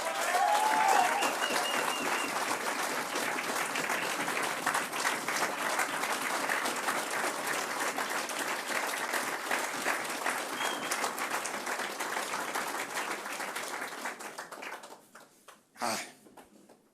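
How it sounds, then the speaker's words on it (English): Crowd at a university Hall of Fame ceremony giving a big round of applause, dense sustained clapping that fills the room for about fifteen seconds before tapering off, with a brief sharp noise near the end. "So I'd like a big round of applause"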